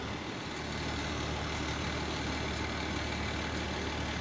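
An FDMV Rescue 1 fire rescue truck engine idles at a steady low rumble nearby, with a faint beep repeating about once a second in the background.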